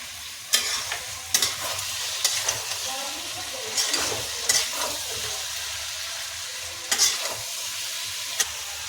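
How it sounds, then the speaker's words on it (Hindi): Green potato curry with chutney is stir-fried over high heat, giving a steady close sizzle broken by repeated sharp scrapes and knocks of the spoon against the pan, with no voices. "इसको सही से मिला दीजिएगा और तेज आंच करके"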